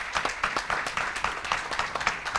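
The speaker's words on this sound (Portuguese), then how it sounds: "Peço, por gentileza, uma salva de palmas para eles." A crowd at a public hearing on compulsory Covid-19 vaccination claps for the legislators, with dense, steady applause filling the room throughout.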